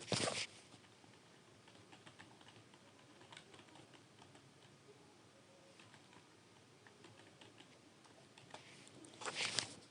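Python Tkinter code typed on a computer keyboard, a quiet, steady patter of key clicks throughout, with denser bursts of keystrokes at the very start and end.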